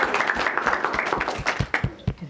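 Students clap at a Teacher Day event in a short burst of uneven hand claps, with voices talking over them.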